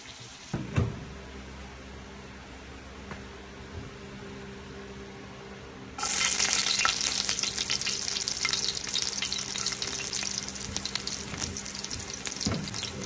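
Dried salted milkfish (daing na bangus) frying in a pan: a quiet kitchen with a faint clatter for six seconds, then a loud, steady crackling sizzle that continues to the end.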